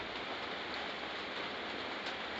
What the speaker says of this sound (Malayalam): ഇവിടെ മൊത്തം മഴയാണ് ഗൈസ്.